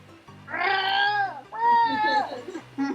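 A human voice imitates a cat's low, protesting meow, drawn out in two wavering calls with a short trailing bit at the end, close and fairly loud.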